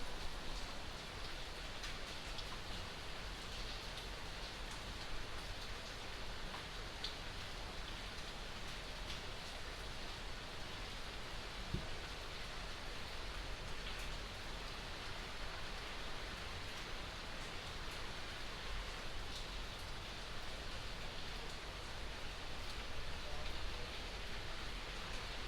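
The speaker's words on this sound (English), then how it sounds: "it's raining through it's like raining and not storming" Rain falls steadily during a rainy day, making a faint, even hiss that continues without a break throughout.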